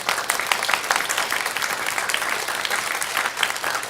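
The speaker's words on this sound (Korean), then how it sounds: "우리 여성들 밥 하시는 여성들 박수 한번 드립시다" A church congregation at a Sunday afternoon service claps for the women who cook in the kitchen, a steady, full round of applause filling the room from start to finish.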